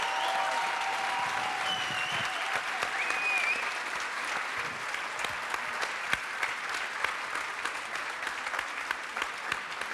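Steady audience applause in a conference hall at an economics forum, a continuous crisp patter of many hands with a few louder individual claps, holding level throughout.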